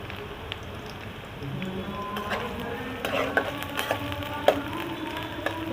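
Thinly sliced onions, two of them, fry in hot oil for a bhindi dish, giving a soft, steady sizzle with scattered spatula scrapes and stirring clicks growing busier toward the end.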